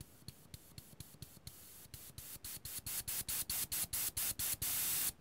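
Short rhythmic bursts of airbrush spray for scale modeling, hissing on and off in quick pulses that grow louder and longer as the pressure is dialed up, ending in a steady hiss.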